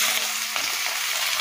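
Onion, cumin, green chilli and spices fry in a pan for egg curry, a brief, bright, continuous sizzle with faint stirring scrapes, close and fairly loud.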